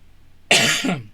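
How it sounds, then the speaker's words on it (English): A single close, loud cough bursting out of near silence, with a rough throaty tail. "I'm going to cough in a minute, sorry"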